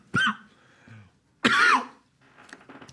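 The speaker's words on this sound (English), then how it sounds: "Okay, you coughed, I'm coughing" Two sharp, close coughs a little over a second apart, each a short harsh burst with a raspy throat-clearing edge, followed by quiet shuffling and faint murmuring.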